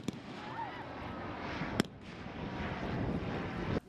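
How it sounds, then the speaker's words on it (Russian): Second World War fighter planes in an aerial chase, a Soviet fighter pursuing a German Messerschmitt, give a steady droning engine roar broken by a couple of sharp bangs. "В это же время в небе советский истребитель преследует немецкого Мессершмитта."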